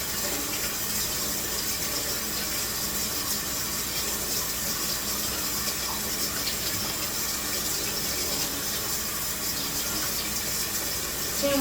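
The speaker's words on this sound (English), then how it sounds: "He's gonna just like run them in the cold water for a few minutes" A kitchen faucet runs a steady stream of cold water over frozen hot dogs and beef smokies in a sink, a constant close hiss and splash with no pauses or voices.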